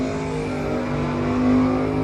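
Drag race cars, a 1984 Cutlass and a 1964 Chevelle, rev loudly with sustained engine tones that swell and climb near the end, close and continuous with no talk.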